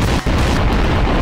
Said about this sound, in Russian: Взрываем эту бомбу на счет 3.